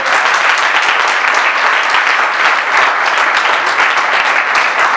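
A church congregation at a wedding reception applauds steadily and loudly for the Lord, a dense, even wash of clapping with faint voices mixed in throughout.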